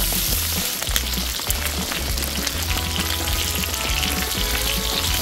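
Pork belly fries in hot oil on a burner at a valley campsite, giving a loud, continuous sizzle and crackle with scattered pops throughout.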